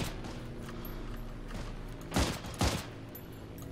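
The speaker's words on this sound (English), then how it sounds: "We're getting shot at." Gunfire in the World War II shooter Heroes & Generals, two sharp close bursts over a constant background rumble of the battle.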